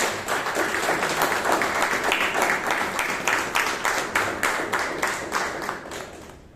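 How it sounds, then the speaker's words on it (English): A Toastmasters club meeting audience gives a round of applause, clapping briskly in a rhythmic, fairly uniform pattern that stays steady and close throughout. "Please give him a big round of applause."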